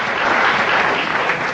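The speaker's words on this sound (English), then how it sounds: "And I actually got applause for an introduction" A crowd in Texas applauds an introduction of Congressman Ron Paul, dense steady clapping at full volume throughout the short stretch, no voices on top.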